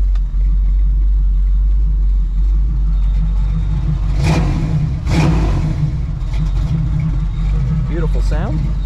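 A 1970 Chevrolet Nova Yenko tribute V8 idles with a loud, steady low rumble, rising in two sharp revs mid-clip before settling back to a throaty idle.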